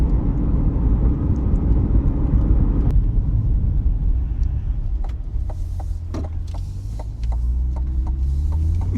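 A Chevrolet C8 Corvette on the move, with a steady deep engine and road rumble filling the cabin, continuous and loud throughout, plus a few faint clicks and ticks toward the end.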